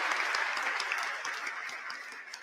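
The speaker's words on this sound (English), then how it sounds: "give her a loud round of applause for what her ambition and her dream is." Sustained applause from an audience at a youth dialogue event, a dense wash of many hands clapping, loud at first and easing slightly toward the end, with no speech over it.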